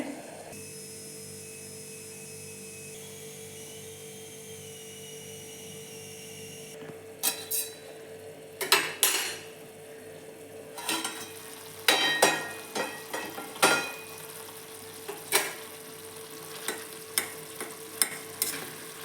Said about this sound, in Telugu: మధ్య మధ్యలో ఒక్కొక్కసారి కలుపుకుంటూ ఉండండి